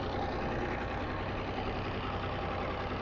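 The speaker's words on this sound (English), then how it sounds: "Two-stroke Hanomag diesel" Two-stroke Hanomag diesel tractor engine running steadily at a vintage machinery auction, a continuous dense low rumble with no pauses, fairly distant and even in loudness throughout.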